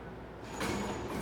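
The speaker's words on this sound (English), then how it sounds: "That door operator sounds like it needs to go. It literally sounds like it's about to die." A failing door operator on an Otis/Westinghouse traction elevator in Pittsburgh, a faint rumbling, grinding mechanical drone that swells into a louder rushing slide partway through, with no voices.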